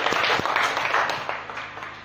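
A classroom gives group 3 a round of applause after their presentation, a short burst of dense clapping from many hands that gradually fades, with no talking.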